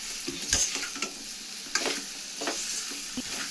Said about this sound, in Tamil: நல்லா மிக்ஸ் பண்ணுங்கள், அப்போ தான் அந்த ஃப்ளேவர் நல்லா உள்ளே இறங்கும்.